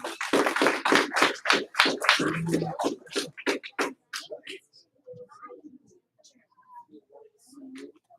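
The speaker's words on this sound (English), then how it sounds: "Give her 1 clap. Give her 2 claps." A classroom of students claps for a classmate: a quick run of sharp, close hand claps for about four seconds, then trailing off into faint taps and rustles.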